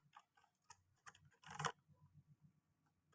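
Keys on a computer keyboard are tapped in a quiet room, a few soft, irregular clicks followed by a quicker run of light keystrokes and a sharper tap at the end, with no voices.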